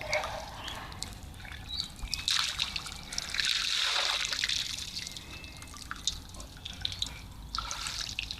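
Water trickling and dripping as an older elephant bull slurps and squirts it into his mouth at a waterhole, a close, steady wet splashing with faint birds calling in the background.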